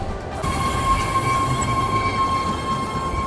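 A BART train arriving at Bayfair station, with a steady low rumble of wheels on rail and a thin high-pitched squeal holding on top, heard close up from the platform without voices.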